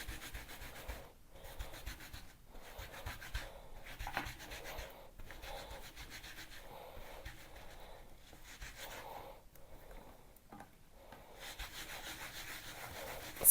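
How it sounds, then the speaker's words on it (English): A rubber ink stamp is being rubbed and scrubbed clean of leftover green ink, giving a steady, close scrubbing friction in repeated strokes with brief pauses throughout and no talking. "Get your stamp and we just give it a rub."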